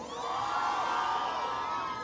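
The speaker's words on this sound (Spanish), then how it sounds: "A ver, el grito de las mujeres esta noche." Women in a live concert audience shout and cheer together, a loud continuous crowd roar with whoops rising through it for about two seconds.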